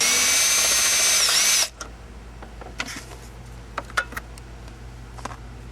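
A power tool whirs loudly for about a second and a half while backing out a bolt on a 1993–1998 VW Jetta, then stops abruptly, followed by faint clicks and taps of handling parts.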